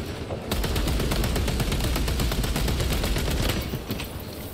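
Rapid automatic gunfire from Warhammer 40K Space Marine 2 rattles in a loud, continuous burst that runs for several seconds, with dense, evenly spaced shots and no talk over it.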